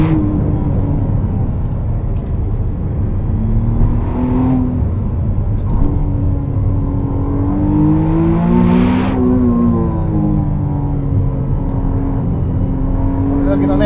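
A 2025 McLaren Artura engine revs hard toward its rev limit on a narrow winding road, its rising and falling note loud and close under continuous in-car talk.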